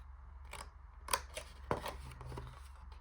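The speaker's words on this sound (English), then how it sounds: "Then I'm going to just angle cut that down and then do the same on this side" Scissors make a few crisp, close snips while cutting an angled edge on a handmade paper envelope flap, spaced apart over a quiet low hum.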